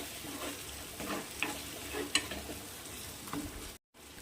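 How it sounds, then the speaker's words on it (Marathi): Half a finely chopped tomato sautés in a little hot oil for an eggplant curry, giving a soft sizzle with spoon-stirring scrapes and taps up close, then a brief drop to silence near the end. "आता यामध्ये आपण टोमॅटो टाकू असं बारीक चिरू अर्धा टोमॅटो आहे आणि याला पण छान असं परतून घेऊ"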